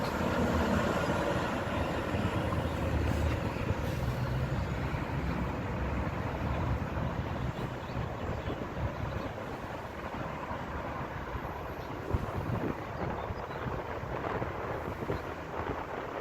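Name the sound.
Fullington Trailways coach bus passing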